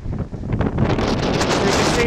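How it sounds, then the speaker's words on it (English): A gust of wind strikes a sailboat, roaring and buffeting the microphone with a loud, broad rush that builds and holds for about two seconds. "So I just got a gust of wind there, guys."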